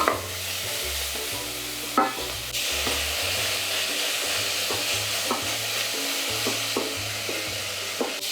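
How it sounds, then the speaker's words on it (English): Pork belly frying in a pan as its fat renders, a steady close sizzle with occasional stirring scrapes and a low background hum, no voices. "add the pork belly, and it's going to render a bit of fat here"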